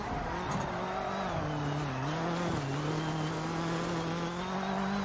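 An all-wheel drive race car in a racing video game drones steadily at constant volume, its engine tone holding and shifting slightly in pitch throughout with a faint tire squeal.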